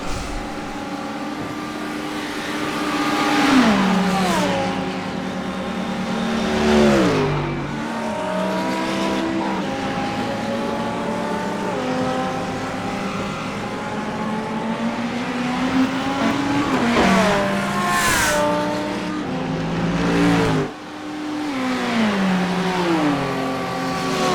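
Race car engines, including a Ferrari, roar continuously in an iRacing sim race at the 3 Hours of Le Mans, revving high and dropping pitch through repeated gear shifts, loud and up close without any talk.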